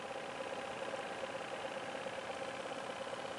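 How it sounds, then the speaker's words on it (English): A homemade 8-transistor motor runs with a steady, even electric hum and a faint buzzing whir, unchanging and continuous at a moderate level with no voices. "Just now finished an 8 transistor motor."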